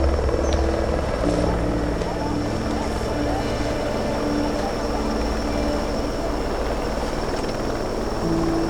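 A helicopter's steady rotor and engine drone fills the background of an outdoor race course, while people talk over it throughout.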